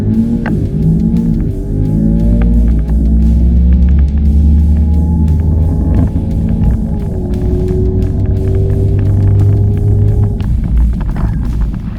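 A modified Ford Mustang GT with a dyno-tuned setup runs at a drag strip, giving a loud, continuous engine drone whose pitch rises and shifts in steps, heard up close with no talking.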